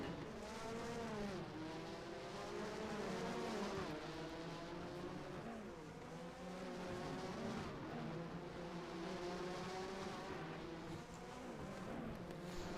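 1988 Formula One race cars lapping the San Marino circuit in rFactor 2: high-pitched engine whine that rises and falls steadily as the cars shift gears, with several engines overlapping at moderate distance and no talk.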